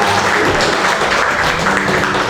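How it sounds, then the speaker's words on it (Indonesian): Audience at a mentoring talk in Ketapang claps for a speaker being introduced, a short burst of steady, fairly close applause. "Tepuk tangan Bapak Ibu."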